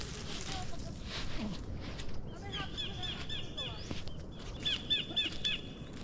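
Birds sing loudly by the seaside, with repeated high chirps and whistles over steady surf-like noise and a voice talking.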